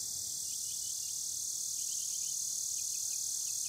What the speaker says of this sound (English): Now the crickets are making their little noises.